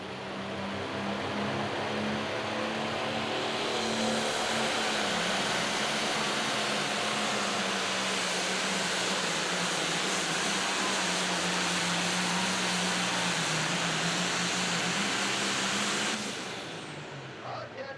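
An International limited pro stock pulling tractor roars at full throttle during a charity tractor pull, a loud sustained drone whose pitch sags and recovers as the run goes on, then cuts off near the end.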